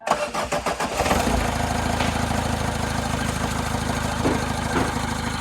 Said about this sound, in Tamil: ஓகே வெஹிக்கிள் ஸ்டார்ட் ஆயிடுச்சு.